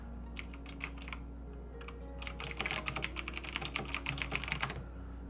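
Typing on a computer keyboard, a few scattered keystrokes followed by a rapid steady burst of clicks over a low constant hum, close and moderately quiet.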